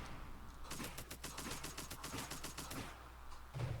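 Enemy mortar and weapon fire in the Redcon strategy game, a fast run of evenly spaced sharp bangs lasting about three seconds, faint and distant, with no talking.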